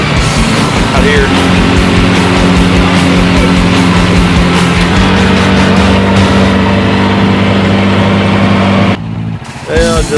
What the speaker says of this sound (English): I just wanted to show a little demonstration ride on the HJS